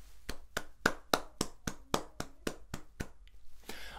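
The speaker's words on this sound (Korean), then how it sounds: "우리의 찬양을 받으신 우리 하나님께 감사와 찬양의 박수 올려드리겠습니다" A church youth congregation at a Sunday service claps in praise, about a dozen sharp, evenly spaced claps in a steady rhythm that sound like one close group, with no talking.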